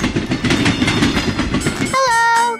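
A cartoon train sound effect from an alphabet song game app: a steady, rhythmic clickety-clack of wheels on rails, followed by bright whistle-like tones near the end, loud and clear with no voices.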